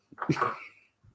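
A single sneeze, fairly close and moderately loud, with a sharp intake and burst followed by a faint trailing breath.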